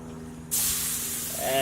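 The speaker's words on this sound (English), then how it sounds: "Listen to that sizzle." A sudden loud hiss of chicken hitting a hot grill, then steady sizzling that keeps going, close and bright.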